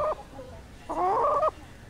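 A hen in an open-air run clucks close by: a short cluck, a softer one, then a longer drawn-out cackle, with quiet pauses between.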